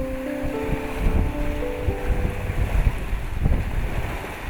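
A boat sails across open Mediterranean water toward Cabrera island, with steady wind buffeting and the wash of waves under a low motor drone, and no voices.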